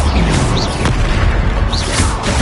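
A Confringo fire spell explodes in the Hogwarts Legacy video game, a loud booming blast with crackling bursts and brief whooshing spell effects layered over dense combat noise.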